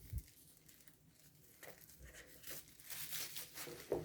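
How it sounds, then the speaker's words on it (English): Plastic packaging around a boxed pair of Fricon T13 touch-control Bluetooth wireless earphones being torn and unwrapped, giving faint, close crinkling and tearing rustles in scattered bursts with a few sharper crackles, no talk. "I've decided to open the plastic and"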